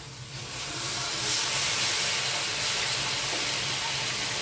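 Water poured into a hot pan of spiced cabbage and egg curry sets off a loud, steady sizzling hiss that swells within the first second and keeps going, close and continuous.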